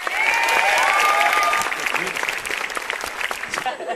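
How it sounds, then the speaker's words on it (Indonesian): Studio audience at a televised stand-up comedy battle applauds a comedian, a dense burst of clapping that peaks early and then thins out, with a host speaking over it. "Tepuk tangan sekali lagi buat Iwel."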